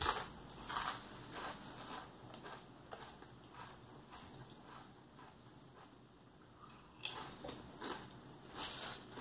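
Someone bites into a Lay's Cuban Sandwich flavored wavy potato chip and chews it, making close, crisp crunches in irregular bursts, with louder bites at the start and again near the end.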